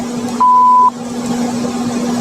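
Voicemail beep: a single clean electronic tone of about half a second, loud and steady, over a constant low hum with quiet background noise.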